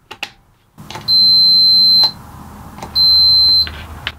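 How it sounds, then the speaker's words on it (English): A multimeter set to continuity gives two sharp, steady electronic beeps, each lasting about a second, while a guitar cable is tested for a footswitch build; soft handling clicks and quiet room noise surround them. "I've got my multimeter set to continuity with just an audible signal"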